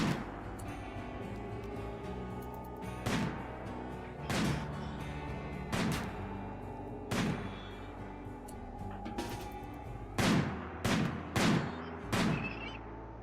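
Gunfire in a colony-survival video game aimed at a dangerous melee creature, with about a dozen sharp shots, some spaced out and a quick cluster near the end, over a steady background hum.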